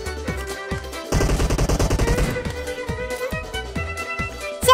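Gunfire in a shooting video game: a dense, rapid burst of automatic shots lasting about a second, loud against a backdrop of game music and effects, with softer isolated thumps before and after.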